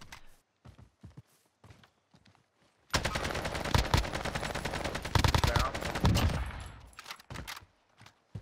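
An MP40 submachine gun in Call of Duty: Warzone on the Caldera map fires one sustained automatic burst lasting about four seconds, loud and close, framed by sparse clicks and quieter game sounds before and after.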